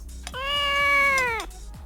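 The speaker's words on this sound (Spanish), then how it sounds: "¿Por qué maullas como un gato?" A cat lets out one clear, drawn-out meow lasting about a second, close and loud, over a low background hum.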